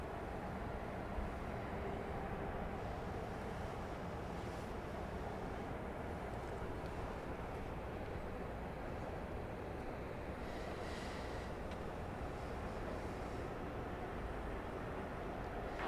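An airliner taking off from runway 31 left at Dallas Love Field at night, heard as a steady, broad, distant engine roar that holds evenly throughout with no voices.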